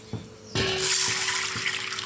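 Running water from a kitchen tap splashes steadily at close range as something is washed, with a few soft knocks at the start before the flow turns on fully.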